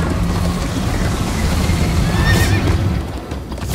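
A horse whinnies loudly over pounding hooves and broad rushing noise in a video game, the galloping steady throughout before easing at the end.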